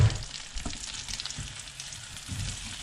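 Bananas sizzling in runny caramel in a pan, a soft continuous close fry with faint low bumps as the pieces are moved around.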